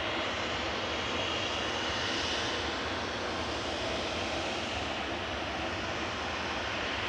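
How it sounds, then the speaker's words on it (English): Ryanair Boeing 737-800, 15 years old, taking off from runway 23 left at Manchester Airport: a constant broad jet engine roar, steady and fairly loud, holding without a break. "Ryanair's next up for departure, just lining up on 23 left, heading off to Vienna with flight 693."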